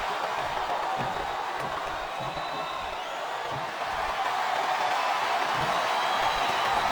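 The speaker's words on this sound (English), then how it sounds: "This capacity crowd is making their opinions known tonight." A large crowd in a wrestling video game, WWE SmackDown vs. Raw 2007, roars steadily throughout, a dense wash of cheering and shouting with no pauses, sounding like a packed arena.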